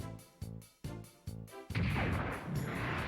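Beam rifle fire in the Mobile Suit Gundam game Journey to Jaburo: four sharp, evenly spaced blasts, each dropping off quickly, followed by a dense, louder rumble of explosion and noise that keeps going to the end.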